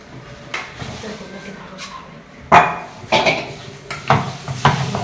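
Fried vermicelli tipped onto rice in a cooking pot in a kitchen, with sharp metallic scrapes and clinks from a utensil against the pot, several taps and knocks spaced irregularly over a faint background hiss.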